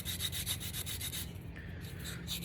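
A 180/100 grit emery board sanding a Bois d'Arc hedge wood call insert with quick rhythmic rubbing strokes, close and faint, with a brief pause midway before the strokes resume.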